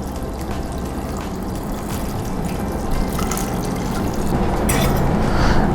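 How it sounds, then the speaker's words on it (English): Water being poured into a pressure cooker already holding dal, onions and tomatoes, a steady splashing fill that builds slightly louder toward the end with no voices. "followed by I will add water."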